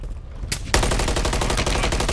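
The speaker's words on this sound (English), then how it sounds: "I'm getting shot from behind." Dense automatic gunfire in the Call of Duty Warzone video game: a short burst, then continuous rapid, loud shots from about the midpoint onward, with no talking.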